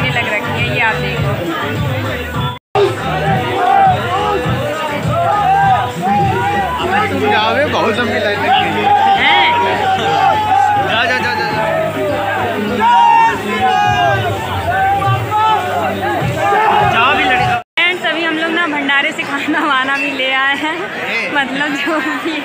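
Dense crowd chatter fills the grounds of Buddheshwar Mahadev Temple in Lucknow during a Shivratri bhandara. Many voices overlap in a loud, continuous hubbub with two brief dropouts.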